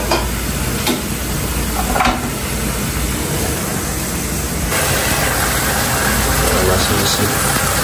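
String beans sauté in a hot pan, giving a steady loud sizzle with occasional scraping and stirring clatter throughout.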